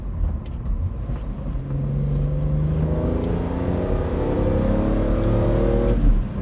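A BMW Z4 M Coupé accelerates hard in third gear, its engine note climbing steadily in pitch as the revs rise, heard loud and close from inside the cabin with no talking.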